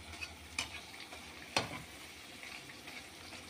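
Potato chips dipped in gram-flour batter fry in hot oil with a steady soft sizzle, broken by a couple of sharp pops and scrapes of stirring.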